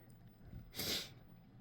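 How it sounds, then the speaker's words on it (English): A single sharp nasal sniff from someone with a cold, one quiet breathy burst in an otherwise hushed moment during a painting demonstration. "I'm sorry about the sniffing, I have a cold"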